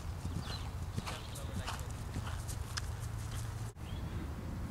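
A calmly ridden horse walks with a steady run of soft hoof clops during a riding lesson, heard against a constant low background rumble.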